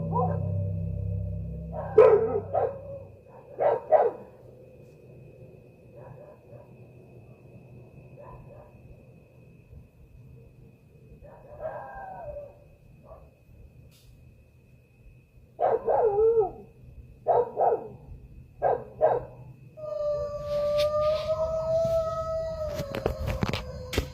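A dog barks in short separate bursts, a few at a time with pauses between them, fairly close and outdoors at night near a house, followed by a steady higher tone toward the end.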